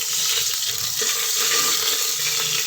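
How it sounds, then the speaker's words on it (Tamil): Cumin seeds splutter in hot oil in a cooker, a steady, close hiss of sizzling and crackling that runs unbroken with no talking. "எண்ணெய் காஞ்சதும் எடுத்து வச்சுருந்த ஜீரகத்தை பொரிய வச்சுருக்கிறேன். ஜீரகம் நல்லா பொரிஞ்சு வரட்டும்."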